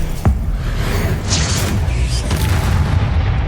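A disarming spell cast in the video game Hogwarts Legacy, heard as a sharp magical burst with a whooshing shimmer over a continuous rumbling low-end bed of battle noise.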